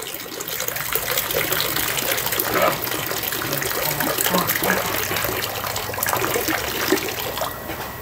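Water gushes and splashes steadily while being fetched for a tilapia fingerling tank, a close, continuous rushing sound with a faint voice underneath.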